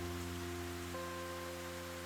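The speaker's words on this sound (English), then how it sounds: "The spirits are making it rain" Rain falling in the video game Rune Factory: Guardians of Azuma, a steady wash of noise behind sustained musical tones, with no talk.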